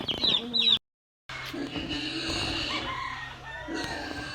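Chickens and chicks cluck and peep in a pen set up as their sleeping area, with high chirps up front, a short silent gap, then a steady mix of clucking and cheeping.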